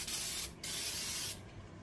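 A pressure washer sprays a brake caliper on a 2007-2011 Honda CR-V, giving a loud close hiss that stops briefly once and then resumes before fading.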